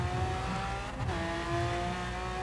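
A 2012 Lamborghini Aventador LP 700-4 with a 6.5-liter V12 in Forza Horizon gives off a loud, steady engine drone with a sustained tonal whine and a brief dip partway through, with no voices over it.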